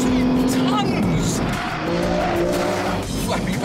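An Aston Martin Rapide, a nearly two-ton sports saloon, driven hard with loud engine roar and tyre squeal as it corners, the noise continuous and close, with someone talking over it.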